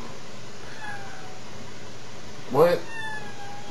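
A cat gives one short, loud meow midway through, in a quiet room with someone speaking briefly nearby.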